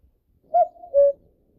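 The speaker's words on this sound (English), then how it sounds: "Cuckoo." A cuckoo gives two soft, hollow call notes, clear and close against silence.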